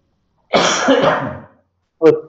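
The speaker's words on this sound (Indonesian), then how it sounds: "Batuk nih" A loud, close, drawn-out cough followed a moment later by a short second cough, then silence.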